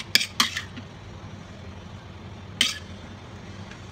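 Kurmura bhel is served into a dish with a few sharp clinks of spoon on plate, two near the start and one later, and a quiet pause between them.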